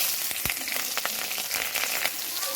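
Kalonji and chopped green chillies fry in hot oil, giving a constant bright sizzle with scattered pops and light crackles, close and steady.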